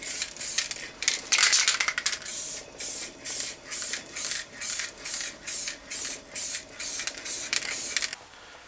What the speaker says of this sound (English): But we're going to give them a good spray.